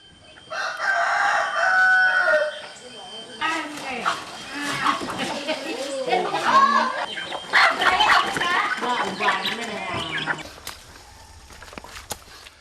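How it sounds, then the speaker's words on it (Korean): A farm-raised chicken living in a tropical rainforest village of the Iban people in Indonesia crows and clucks repeatedly at close range, with other fowl calling around it and voices speaking over the scene. "나타난 것은 다름 아닌 닭입니다"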